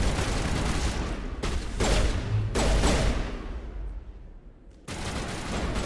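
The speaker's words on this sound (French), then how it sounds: "je vais prendre le pistolet" Pistol gunfire in the video game Mass Effect, loud crackling bursts of shots with short gaps, a quieter lull, then firing resumes, set against game ambience.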